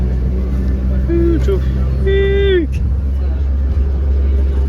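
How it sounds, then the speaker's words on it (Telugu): An air-conditioned tour bus drives through North Goa, its engine droning low and steady inside the cabin while a couple of car horns toot sharply nearby partway through. "Bus ఎక్కేసినాము and వెళ్ళిపోతున్నాము."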